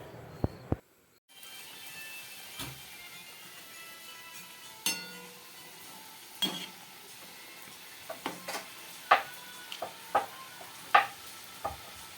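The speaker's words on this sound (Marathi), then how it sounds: "आणि या करंजा आता मी तळणार आहे" A steady hiss of oil deep frying karanji pastries, with occasional sharp clinks and taps of a utensil against the pan; no talking.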